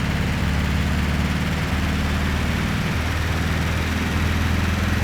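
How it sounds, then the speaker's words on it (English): An old air-cooled Volkswagen engine, Beetle type, drones steadily in Gran Turismo 5. The loud, close, buzzy flat-four thrum holds a constant note throughout. "Exactly how a Volkswagen Beetle or any of those old air-cooled Volkswagen and Porsche engine sounds."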